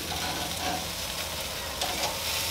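BBQ chicken sizzles loudly on a Masterbuilt Gravity Series 560 grill as pieces are flipped, a dense, continuous crackling hiss with small bumps from the turning.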